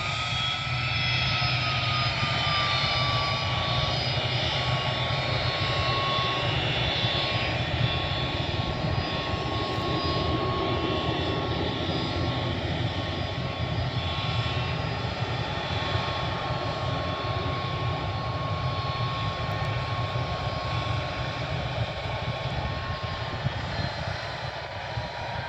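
A Star Air aircraft's engine roars steadily through take-off at Aldergrove, a loud sustained drone with a faint whining tone drifting over it, close and continuous with no talk.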